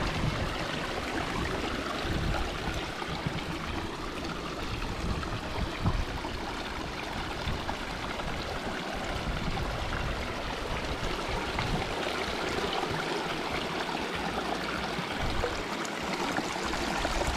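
A mountain stream on Lochnagar gurgles and flows steadily up close while a water bottle is filled from it, with the water splashing and burbling at an even level.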